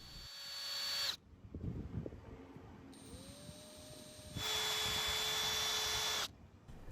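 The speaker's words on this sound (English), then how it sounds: "after a couple attempts with the drill spinning" A power drill spinning a Scotch-Brite pad to clean a Honda mower part whines in two sustained bursts at a steady high pitch, with a quieter stretch of scrubbing and clatter between them.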